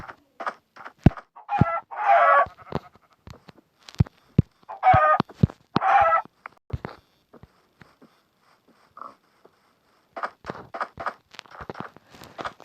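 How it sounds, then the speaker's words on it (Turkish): Chickens cluck and squawk in a Minecraft farm scene, several short bursts of clucking and a crow-like call separated by sharp clicking steps and quiet gaps, close and clear with no talk. "Şurada tavuklar var."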